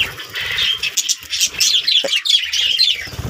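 A budgerigar chick that has just left the nest chirps in quick, high, thin bursts close by, with short gaps between calls and no talking.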